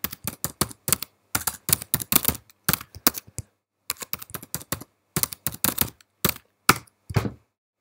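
Fingers type on a computer keyboard in quick bursts of sharp clicking keystrokes, close and distinct, separated by short pauses.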